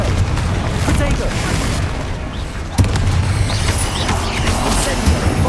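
Confringo fire spell explosions in the Hogwarts Legacy video game, rumbling booms and bursts with sharp cracks near the middle and end, heard under a voice calling out spell names.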